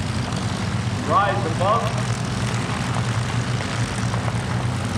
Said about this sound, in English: There is the Red Tail P-51.